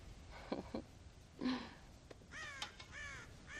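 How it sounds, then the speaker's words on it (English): Crows caw around a farm silo in Red Dead Redemption, several harsh calls scattered over a quiet background, some nearer and louder, others softer, with no speech. "God damn crows!"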